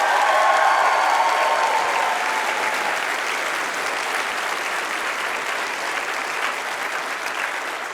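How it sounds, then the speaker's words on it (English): Studio game-show audience applauding the third-place contestant, a loud sustained burst of clapping that slowly fades over several seconds. "Big round of applause for Dan here."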